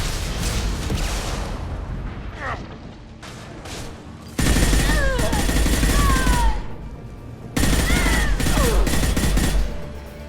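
Bursts of loud, rapid gunfire from the Mass Effect video game, several sustained automatic volleys separated by short pauses, with whooshing weapon effects and game voices underneath.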